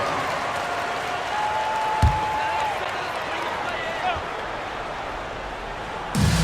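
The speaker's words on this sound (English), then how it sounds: "please give a big round of applause for your dance team" Broad wash of crowd applause and cheering for a dance team in a big arena during a game, steady throughout, with a couple of sharp thuds breaking through.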